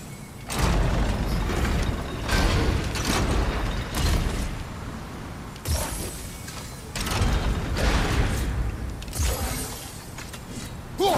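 A large gear mechanism grinds and creaks in God of War: Ragnarok, heavy mechanical rumbling in long sustained waves with brief pauses, loud and close.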